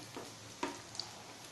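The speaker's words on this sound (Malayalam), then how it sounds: "മീഡിയം ഫ്ലെയിമിൽ വെച്ച് ഫ്രൈ ചെയ്തെടുക്കുക." Egg kebab frying in oil on a medium flame, a soft, steady sizzle with a couple of faint clicks from the pan, no voices.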